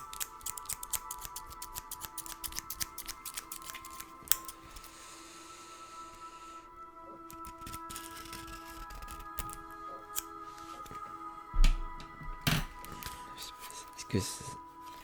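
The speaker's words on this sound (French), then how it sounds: "Je sais pas si ça va marcher ce ciseau." Scissors cut open a package of newly bought music gear in close, soft snips and crunches, with quiet whispered French talk running throughout.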